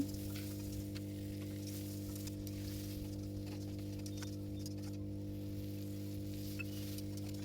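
Steady, continuous sizzling of a spice paste frying in a pan, with occasional faint stirring scrapes and a constant low hum underneath; no voices.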